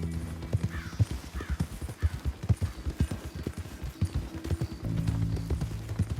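In the video game Red Dead Redemption 2, a horse's hooves clip-clop in a quick even rhythm, close and clear, with a low rumble swelling near the end and no talk.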